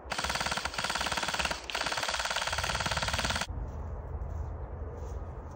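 An Arcturus X C.A.T. Versatile 10-inch airsoft rifle fires a sustained full-auto burst of rapid, evenly spaced shots for several seconds with one brief break, loud and close, then stops, leaving only quiet background hiss.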